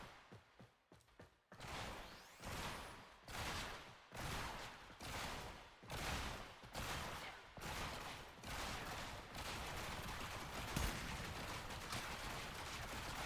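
Enemies fire at the player in Warframe: a steady run of rhythmic gunfire bursts and mechanical clatter, each pulse about half a second apart, at moderate loudness with no talking.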